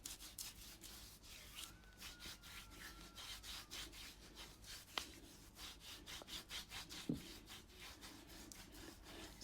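A homemade body scrub is rubbed over skin, making faint, rhythmic gritty scratching strokes that repeat steadily and close up, with no voices.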